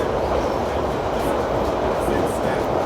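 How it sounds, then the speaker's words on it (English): Steady rumble and rattle from inside a moving subway train, loud and continuous, with a dense wash of track and car noise throughout. "I'm on the subway."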